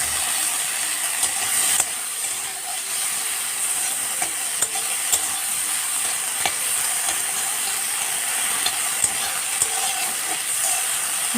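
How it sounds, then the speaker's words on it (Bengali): Shrimp frying in oil in a wok gives a dense, steady sizzle throughout, with occasional sharp clicks of a utensil scraping the pan. "হালকা করে ভেজে নিচ্ছি"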